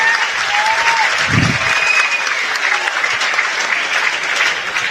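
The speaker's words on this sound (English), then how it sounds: "a big round of applause to both fighters for a fantastic main event" A fight-night crowd applauds both fighters after a main event, with dense, sustained clapping at steady loudness, a few faint whistles and a brief low thump partway through.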